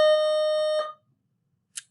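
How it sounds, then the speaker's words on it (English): An electronic school-style bell or tone rings steadily for just under a second, then cuts off abruptly, followed by a short faint blip; loud and close, with no talking. "Another bell, I apologize."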